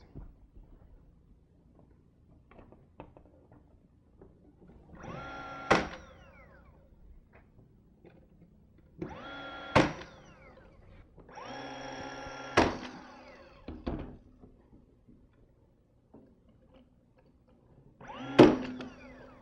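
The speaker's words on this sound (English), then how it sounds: "now I'm just going to secure them down using my nail gun with just a few finish nails" A nail gun drives finish nails into painted bar shelves: a few sharp, loud single shots spaced several seconds apart, each preceded by brief handling and shuffling noise in an otherwise quiet room.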